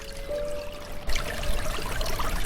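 River water rushes and splashes steadily along a riverside walk toward falls in crisp outdoor air. It is a continuous broadband flow that grows a little louder partway through.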